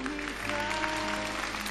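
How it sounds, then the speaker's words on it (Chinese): Studio audience applauding at the close of a television dating show, a short, dense burst of clapping under a sustained musical tone. "掌声祝福他们。"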